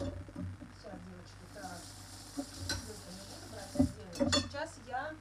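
A spoon stirs sour milk into a batter mixture in a bowl, with soft scraping and a few sharp clinks of utensil against dish while a person talks.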